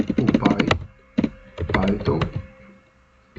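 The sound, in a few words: typing on a computer keyboard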